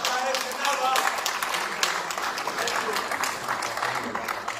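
Audience clapping and applause at a televised political talk event, a steady dense patter of hands that carries through the whole stretch with voices mixed in.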